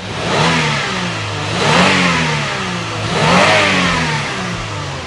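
A Toyota Alphard ANH10 minivan's V6 engine revs up twice in long rising swells over a steady idle, loud and close.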